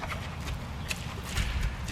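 A ridden horse trots, its hooves striking the ground in a quick, regular clip-clop that sounds close and fairly loud, with no talk over it.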